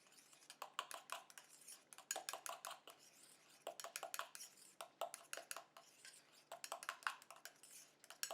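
Hair mask mixed in a bowl with grapefruit essential oil added, a utensil scraping and tapping the bowl in quick steady strokes, close and quiet, with no talking.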